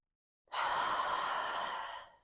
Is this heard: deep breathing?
yes